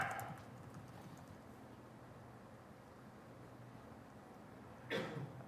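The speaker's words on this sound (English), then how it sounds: "let's start typing" Typing on a computer keyboard during work in SharePoint Designer 2013: faint, scattered key clicks over a low steady hum, with a brief louder burst near the end and no talking.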